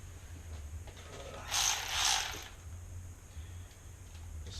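A hand ratchet clicks while tightening a bolt on a small block Chevy engine during a rebuild, a short burst of close metallic ratcheting over a quiet background hum.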